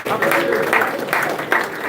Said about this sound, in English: A wonderful applause to our principal, Mr. Alani Sampson.